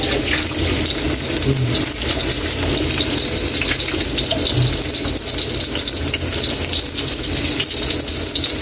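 Garlic and onion sautéing in hot oil for pancit, giving a steady, loud frying hiss with faint clinks of stirring throughout, and no talking.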